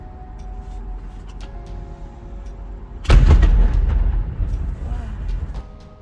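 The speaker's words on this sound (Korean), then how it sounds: "정말 강좌에서 대포 쏘나 봐요." A heavy boom of distant artillery or cannon fire in Mongolia, rising abruptly out of low background noise and then rumbling away over a couple of seconds.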